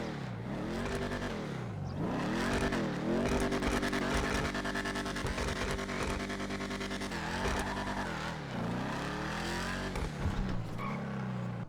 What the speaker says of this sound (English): we're gonna do a sound test now and a full review on the vehicle